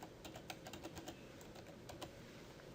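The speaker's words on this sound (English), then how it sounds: "But if you just start typing at your keyboard" Steady clicking of typing on a computer keyboard while getting started in AutoCAD, with a quick irregular run of faint, close keystrokes and no voices.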